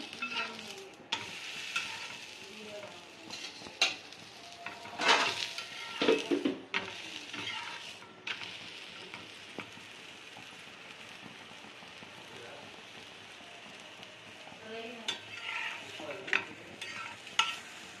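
Layered chapati frying in oil on a pan, soft crackling sizzle with intermittent sharper clatters and scraping as it is flipped, fairly quiet throughout.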